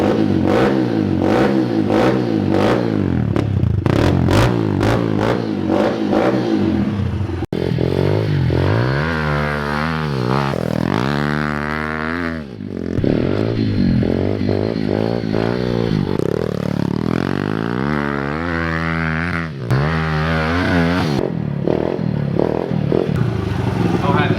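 A pit bike engine warms up at close range, running loud and continuously with rising and falling revs and harmonic engine tones throughout, over faint background clatter.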